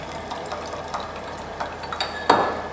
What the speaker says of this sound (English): I have to pour some amount of the vinegar solution that I have inside the lab inside